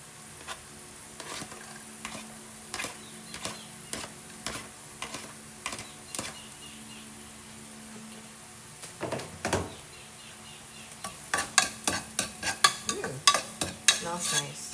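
Garlic sautéing in a pan for ginisang monggo (Filipino mung bean stew), a soft steady sizzle broken by repeated sharp clicks and scrapes of a utensil stirring, the stirring getting busier and louder toward the end; no talking.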